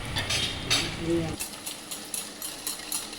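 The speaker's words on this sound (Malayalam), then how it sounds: "നല്ല അടിച്ച് പതക്കണം" Eggs whisked briskly in a bowl for egg curry, a rapid scraping, tapping rhythm that is close and fairly loud at first, then thinner and lighter, with a voice speaking over it.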